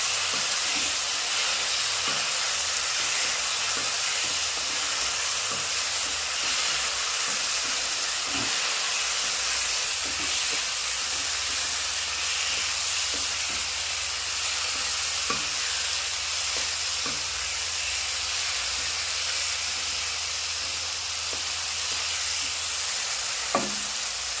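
Fried potatoes sauté in masala in a pan, a loud, unbroken hissing sizzle with occasional soft clicks of stirring, steady and close throughout, with no one speaking.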